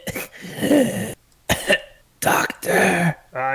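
A person coughs several times in separate harsh, throaty bursts with short pauses between them, close and clear, during a tabletop role-playing game session; a brief voiced sound follows at the end.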